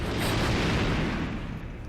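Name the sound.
fireworks exploding in James Bond video game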